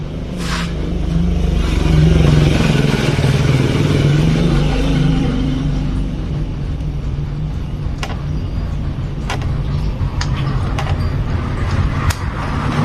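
A Suzuki Satria two-stroke motorcycle with a fault in its ignition is started and runs, giving a loud, close, rough engine rumble that swells early, then settles into a steady idle punctuated by sharp clicks and clatters.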